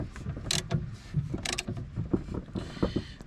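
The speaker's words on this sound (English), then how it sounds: "that's why I hate these cheap dang sockets or ratchets" Cheap Pittsburgh ratchet clicking while working on a Kohler diesel engine during disassembly, giving irregular mechanical clicks and clunks at close range.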